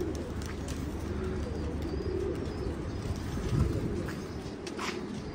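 Pigeons coo steadily nearby, with a brief flutter of wings partway through against a low background hum.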